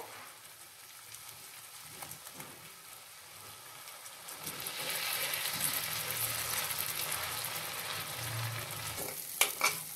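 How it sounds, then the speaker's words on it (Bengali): Green chilli and ginger paste being stirred and mixed in a cooking pan for a vegetarian Kashmiri aloo dum, a soft sizzle that grows louder midway, with scraping strokes and a sharp clink near the end. "ভালো করে মিশিয়ে নিচ্ছি আমি।"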